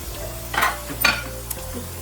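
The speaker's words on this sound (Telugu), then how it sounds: "ఇప్పుడు మంచిగా వేగాలి. ఇది ఫ్రై కావాలి మంచిగా వేసి." Crab curry ingredients frying in a pan for Telangana-style crab curry, a soft steady sizzle with a few brief scraping stirs of a spoon.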